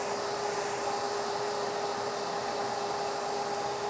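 A blow dryer runs steadily while drying hair straight, a constant close whooshing airflow with a fixed motor whine and no change in pitch.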